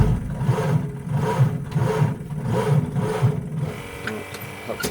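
A warm 1930 Ford Model A sport coupe hot rod engine idles steadily at about 500 RPM, its low chugging pulses rolling in an even, regular rhythm, close and fairly loud with no talk over it.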